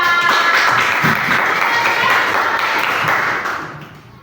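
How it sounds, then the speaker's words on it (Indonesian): A class of fifth-grade pupils applauds a presenting group, steady close clapping from many hands that holds for about three seconds before fading out. "Tepuk tangan untuk kelompok 3."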